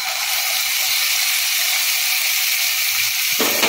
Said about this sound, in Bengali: আমি আদা আর রসুন বাটাটাকে একটুখানি ভেজে নিয়েছি